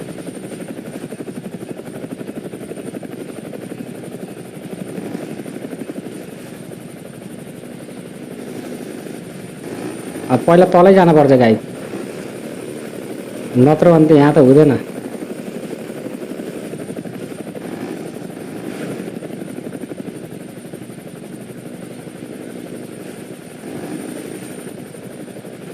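A helicopter in the game GTA gives a steady whirring drone throughout, with someone speaking over it and two short louder bursts midway.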